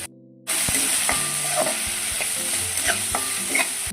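Capsicum sautéing in a hot pan: after a brief quiet moment, a steady close sizzle starts, with spoon scrapes and light clinks from stirring.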